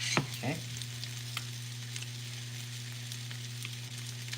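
French toast sizzles steadily in a pan after being flipped, with the heat turned down; a constant close frying hiss with a low hum underneath and a couple of brief utensil clicks near the start.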